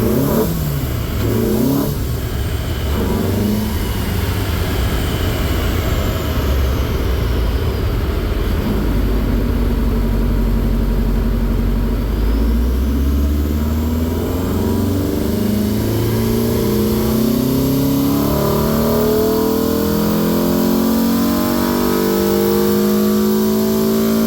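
A Peugeot 309 GTi6 16V engine strapped down on a dyno, revving hard and continuously, climbing and falling through the rev range with a loud, steady mechanical drone and rising engine pitch, no talk.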